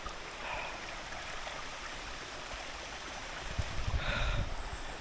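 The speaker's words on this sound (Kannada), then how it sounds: "ವಾಟರ್ ಫಾಲ್ಸಿಗೆ ಬಂದಿದ್ದೀವಿ. ಇದೆ ವಾಟರ್ ಫಾಲ್ಸ್" Waterfall on the Kumaraparvatha trek near Subramanya: a steady broadband rush of falling water, moderately distant and even, swelling slightly louder near the end with no talking.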